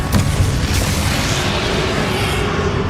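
A Confringo spell explodes in the video game Hogwarts Legacy, a loud, dense, rumbling blast that fills the whole clip without a break.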